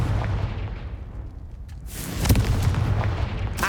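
A Confringo fire spell blast in Hogwarts Legacy, a booming fiery impact that swells out of a low rumbling background and rolls on loudly with a crackling burst, no voices.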